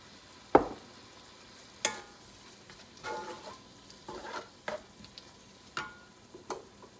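Leftover rice frying in oil in a pan, with soft sizzling under a scatter of scraping stirs and occasional sharp clicks of a utensil against the pan, fairly quiet and close.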